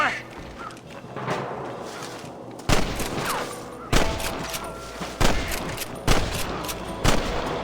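Gunshots ring out in Red Dead Redemption, a Western-era action game: loud sharp cracks at roughly regular intervals, about five heavy reports each trailing a brief echo over a low ambient bed.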